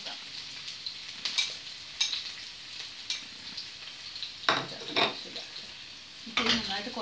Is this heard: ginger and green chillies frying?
yes